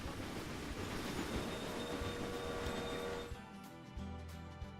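An express train runs in the Railway Empire video game, with steady rumbling rail noise and faint wheel squeal that drop away abruptly near the end, leaving quieter game ambience.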